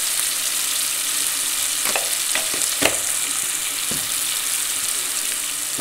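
Salted tomatoes frying in a pan for a spicy kat amti, a constant sizzle broken by several sharp stirring scrapes of a spoon near the middle.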